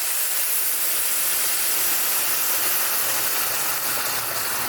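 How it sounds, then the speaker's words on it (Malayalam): Tamarind water hits hot fried onions in a pan, raising a loud, dense, steady hiss of sizzling that holds evenly throughout without any voices. "നമുക്കിനി അതിലേക്ക് പിഴിഞ്ഞ് വെച്ചിരിക്കുന്ന പുളിവെള്ളം ഒഴിച്ച് കൊടുക്കാം"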